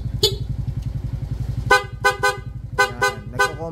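A Suzuki Smash 115 motorcycle horn honks in a series of short, sharp beeps over a steady idling engine, close by and loud.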